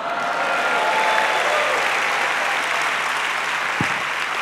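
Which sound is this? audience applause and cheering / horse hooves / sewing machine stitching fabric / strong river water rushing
audience applause and cheering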